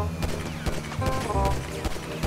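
Rapid bursts of gunfire in the video game GTA 5, fired during a modded police chase, crackle in quick irregular volleys at moderate loudness, with faint background game sounds underneath.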